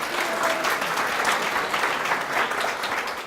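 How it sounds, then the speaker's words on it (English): A crowd at a heart-health talk on cutting salt applauds the chef who cooked their meal, a steady, full wash of clapping hands lasting a few seconds with no talking over it. "So please give her a big round of applause."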